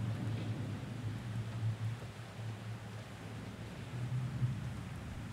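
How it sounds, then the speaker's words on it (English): Steady rain falls in the video game Man of Medan, making a faint, continuous hiss outdoors with a low rumble underneath and no one speaking. "Even though it's raining."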